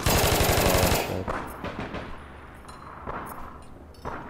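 Rapid machine gun fire bursts loudly in the online shooter APB Reloaded, a sustained stream of shots for about a second, followed by scattered single gunshots and impacts.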